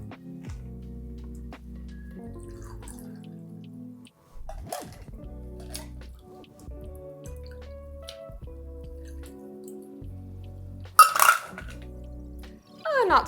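A harvest mocktail strained into glassware, sparse drips and trickles with faint clinks of glass and metal, close and quiet, one sharp clatter near the end.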